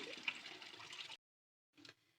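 Potatoes being washed by hand in a container of water at home, with about a second of close splashing and sloshing, a pause of silence, then a brief second splash.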